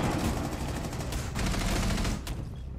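Dense, loud gunfire from an online shooter game rattles on in near-continuous bursts, sounding like rapid automatic fire, with a brief lull before it picks back up.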